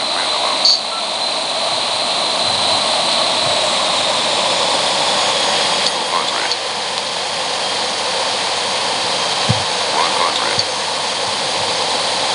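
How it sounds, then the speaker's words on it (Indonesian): A jet airliner lands in the Extreme Landings flight simulator game, its engine roar a steady, loud broadband rush with no break throughout. "Oke, kita buat pendaratan sehalus mungkin."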